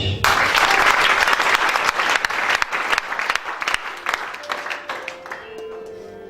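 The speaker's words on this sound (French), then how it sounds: "Acclamation" A church audience applauds during a prophetic teaching. The loud, dense clapping is sustained, then thins and fades toward the end, where a voice briefly rises.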